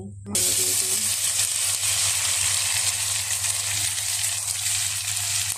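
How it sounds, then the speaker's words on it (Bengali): Chopped onions hitting hot oil in a wok, then frying with a loud, steady, close sizzle and hiss that continues unbroken, with a low hum beneath. "আমি কড়াইতে পেঁয়াজ কুচি দিয়ে দিন পেঁয়াজটাকে সুন্দর করে ভেজে নেব"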